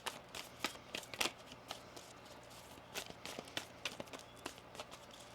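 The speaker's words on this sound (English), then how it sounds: "One more shuffle here." Tarot cards being shuffled up close, a series of quick riffling and slapping bursts in irregular rhythm over a faint background hum.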